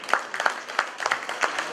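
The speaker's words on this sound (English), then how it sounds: "A round of applause for him, please." Banquet audience giving a round of applause, a quick burst of scattered clapping from a modest crowd, fairly close and brief.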